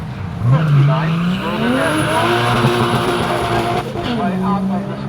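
Challenge race cars drifting on a track, tires squealing in long rising and falling whines over steady engine roar, loud and close throughout.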